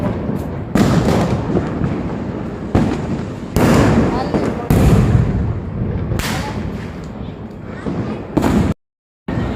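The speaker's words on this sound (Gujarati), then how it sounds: "અને જોરદાર ફટાકડા ફૂટે છે." Loud Diwali firecrackers burst repeatedly at close range, sharp broadband bangs every second or two with smoky crackling between them, ending in a brief silent gap.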